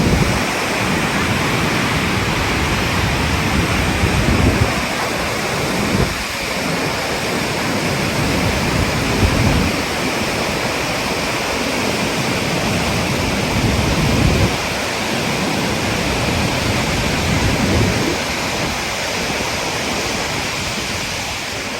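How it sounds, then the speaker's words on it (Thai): The Yangtze River rushes through Tiger Leaping Gorge in a loud, continuous roar of churning water, echoing and steady throughout with no voices. "แล้วก็ได้ยินเสียง ไหลของน้ำก้องกังวานนะครับ"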